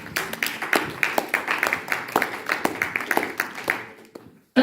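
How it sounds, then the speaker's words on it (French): A congregation in a church service applauds loudly with a steady run of rhythmic claps, close and lively, which then stop abruptly. "On acclame très fort pour la gloire de Dieu"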